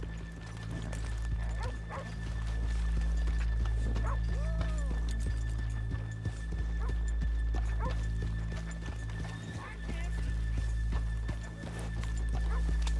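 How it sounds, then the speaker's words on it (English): Horses clip-clopping in the Red Dead Redemption 2 video game, a steady run of hoof beats with occasional whinnies, fairly close and continuous, light talk in places. "let's leave the horses here off the main drag"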